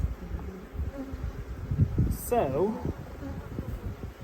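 Honeybees buzz steadily at a hive that has lost its queen, a close, dense hum with wingbeat whines rising and falling while a person speaks briefly and handles things nearby.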